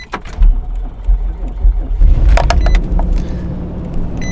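A dead truck engine cranking and catching on a lithium jump starter, a loud low rumble that surges and settles into a steady idle nearby, with brief voices over it.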